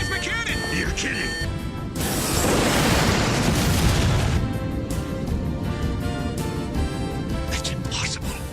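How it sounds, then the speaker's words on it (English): An enemy ship's plasma cannon fires in an animated show: a heavy blast erupts under excited talk, a roaring burst of noise that sustains for a couple of seconds before fading back behind the voices. "A flash from the enemy ship! It's their plasma cannon!"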